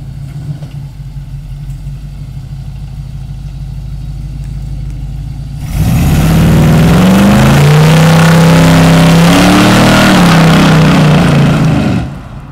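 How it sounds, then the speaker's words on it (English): A car idles steadily, then a loud, close burnout erupts as the engine revs hard and the tires spin and squeal for about six seconds before the noise cuts back. "That's just a quick little burnout."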